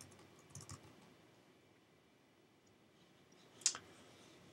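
A couple of soft clicks come early on a computer mouse, then one sharp, distinct click stands out later, faint and close in an otherwise quiet room.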